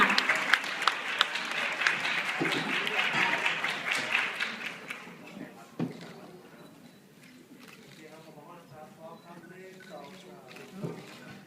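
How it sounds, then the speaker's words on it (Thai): An audience at a stage event bursts into loud applause with crowd noise for about five seconds, then the clapping fades and a voice speaks over quieter room sound. "ขอเสียงปรบมืออีกหนึ่งครั้งด้วยค่ะ"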